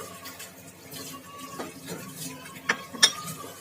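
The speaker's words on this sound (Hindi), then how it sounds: "अब इसे अच्छी तरह से मिक्स कर देंगे" A spoon stirs matar chole, a pea curry, in a pot: soft scraping and gentle rhythmic mixing, with a couple of faint clinks near the end.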